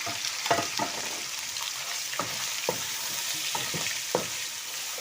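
Spices fry in hot oil with already-fried chicken for haleem, giving a steady close sizzle with scattered spoon clatters and stirring scrapes.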